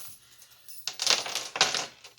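Metal S-hooks clinking and rattling as they are handled in a garage, two bright metallic bursts of jangling about half a second apart, close and fairly loud, with no talking.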